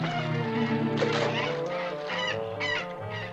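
Geese honk loudly and repeatedly, close by, in a rough burst of overlapping calls that follows a fight with a raccoon at their nest.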